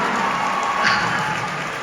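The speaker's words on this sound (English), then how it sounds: "Because I thought people would clap." An audience at a horse performance applauds, a dense steady patter of many hands clapping for a couple of seconds.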